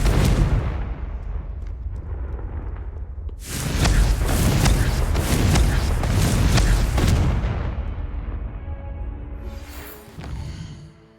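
Confringo blasting spells going off in Hogwarts Legacy, a string of loud booming explosions with crackling bursts, a dense heavy stretch in the middle, then a brief fading blast near the end.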